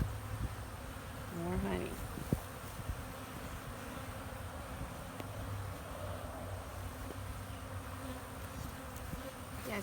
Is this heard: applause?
no